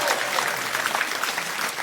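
A short burst of audience clapping, dense and steady, from a small crowd.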